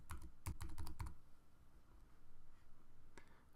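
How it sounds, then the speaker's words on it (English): Computer keyboard keys tapped in a quick burst of about a dozen strokes while entering a login username and password, then a pause and a couple more taps, close but quiet. "you're going to go ahead and type in your username and password"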